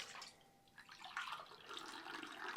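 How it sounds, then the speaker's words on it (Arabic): Warm water pours into a cup in a soft, steady trickle, faint and close, with no voices. "أول شي بدنا نفضي كاسة ونص من المي، والمي بدي إياها تكون دافية"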